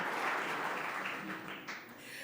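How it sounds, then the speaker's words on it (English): Applause from a business club audience at a downtown Columbus forum, thanking sponsors; steady moderate clapping that fades slightly toward the end, with a voice faintly mixed in. "Let's thank all of these supporting sponsors with a big applaud. Everybody clap."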